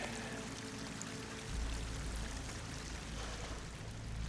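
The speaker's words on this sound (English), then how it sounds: "Water's coming in." Water pouring into a slick-walled underground chamber in the video game Horizon Forbidden West, a steady rushing stream that swells slightly midway and stays unbroken, with no talk.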